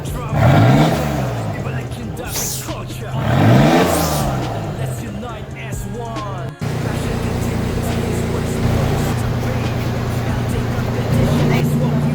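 Datsun 280Z Fairlady Z engine revving in loud bursts, two rising revs early on, then a steady droning idle with crowd talk over it.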